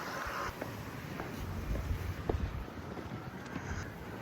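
Strong wind blows outdoors in Jeju, roaring steadily across the microphone with gusty buffeting, near and fairly loud, with no talk.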